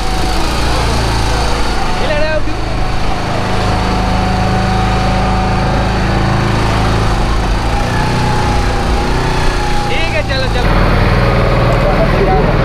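A motor boat engine drones loudly and steadily on the Narmada river, an unbroken throbbing hum throughout, with voices faintly beneath it.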